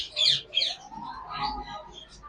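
A breeder pair of pet parrots, rosella or ringneck, gives a few short, bright chirps and squawks close by, two sharp calls at the start followed by softer chatter.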